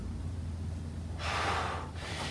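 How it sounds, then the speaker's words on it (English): A person doing a push-up on an unstable bag exhales in one short, forceful, breathy rush, close and quiet, with a faint second puff just after. "Breathing out as we're pushing up."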